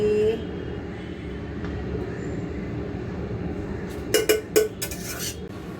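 Food scooped from a metal wok into a metal office bowl makes a few sharp clinks and scrapes in quick succession over a steady low kitchen hum.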